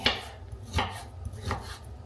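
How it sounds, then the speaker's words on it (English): A knife chopping meat with the fat left on against a cutting board, three or four soft, evenly spaced chops with quiet kitchen ambience between strokes. "So I'm just chopping it. I'm keeping the fat on it and everything"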